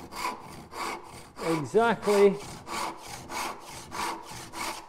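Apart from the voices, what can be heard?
hand saw sawing wood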